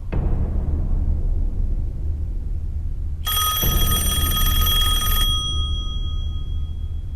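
A telephone rings in a tense spy-drama scene: one loud electric bell burst of about two seconds with a ringing tail, set against a low steady room hum with no talking.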